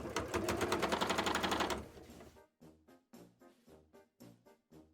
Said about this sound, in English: I'm gonna go through it with my sewing machine